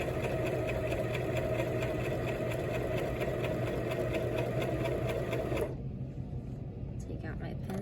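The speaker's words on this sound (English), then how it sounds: "I'm just going to keep stitching around my entire pillow with that 1/4 inch seam" A sewing machine runs continuously, stitching a quarter-inch seam around a pillow, with a steady fast mechanical whir that stops near the end, leaving quiet handling sounds.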